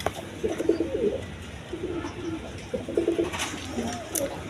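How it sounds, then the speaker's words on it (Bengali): A pair of German shield pigeons coo in short rounded bursts close by, with a faint voice murmuring in the background. "এক পেয়ার জার্মান সিল কবুতর আছে"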